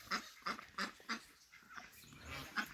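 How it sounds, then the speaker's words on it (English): Mixed breed ducklings on a rainy farm give a run of quick, rhythmic peeping calls, fairly close and moderately loud, with short pauses between bursts. "I'm gonna get rid of my weird mixed breed ducks."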